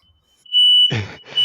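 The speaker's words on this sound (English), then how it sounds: "Someone has set off the fire alarm in my home." A home smoke alarm going off, a piercing high-pitched electronic tone that swells in loud bursts, broken by a short gap before sounding again.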